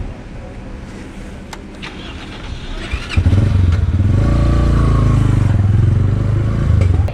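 A motorcycle rides along an empty mountain road in the Khaplu area of Pakistan beside the Indus River, its engine rising from a lighter clatter into a loud, steady rumble that continues close by without speech.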